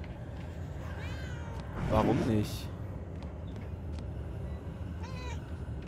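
A cat meows in the video game Murdered: Soul Suspect. Two short, thin meows come about four seconds apart, faint against a low game ambience, and someone talks in the middle.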